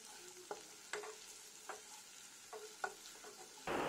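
Chopped green and red chilies fry quietly in a pan. A soft, low sizzle is broken by several sharp clicks and scrapes from a stirring spoon, and a louder burst of hiss comes at the very end.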